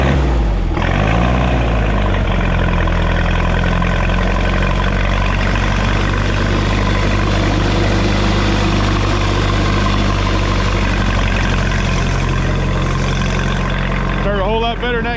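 A propane tractor engine idles steadily in neutral, a loud low, even rumble that holds throughout, with a brief shift in engine note near the start and end.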